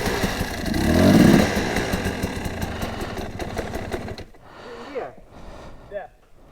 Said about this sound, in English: bike won't start in the middle of nowhere.